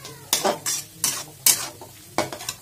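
Spoon stirring Manchurian sauce with ketchup in a pan, giving about five distinct scraping, clattering strokes at a steady rhythm over a faint sizzle, close and moderately loud with no talk.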